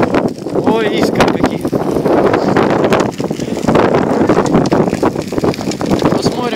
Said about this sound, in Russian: Сегодня у нас сумасшедший ветер.